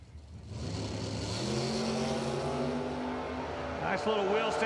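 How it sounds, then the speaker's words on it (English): Drag race cars at a radial tire event, including a '68 Camaro, roaring loudly and steadily as they launch and accelerate down the strip, with a rising engine pitch near the end and a voice talking over the noise. "Another good drag race."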